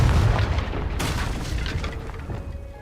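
A Confringo blasting spell goes off in Hogwarts Legacy, a deep booming explosion that rumbles on with a sharp crackling burst near the one-second mark, loud and close with no talk over it.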